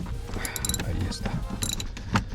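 A ratchet socket wrench working loose the seatbelt tensioner bolts on a Ford Escape, close clicking and metallic ratcheting with creaks and a sharp knock near the end.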